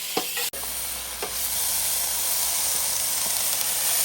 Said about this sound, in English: We are cooking the filet mignon